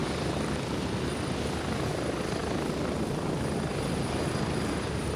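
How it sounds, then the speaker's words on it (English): A helicopter in the shooter game Gray Zone Warfare roars continuously close by, a dense, loud rotor wash and turbine drone that stays steady throughout. "Damn, this helicopter's loud."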